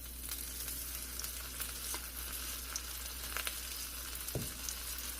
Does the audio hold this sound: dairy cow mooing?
no